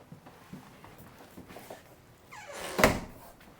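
A storage compartment in the bedroom of a 2024 Winnebago Vista 34R Class A RV opens with a soft sliding rub followed by a sharp, close thunk, after some faint shuffling.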